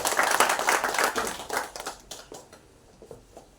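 An audience at a Tamil documentary screening event claps, a burst of crisp applause that starts strong and gradually thins into scattered claps before dying out.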